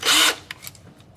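Power drill fitted with a Tailwell2 unit whirs loudly for a short burst, then stops, leaving faint clicks and handling knocks.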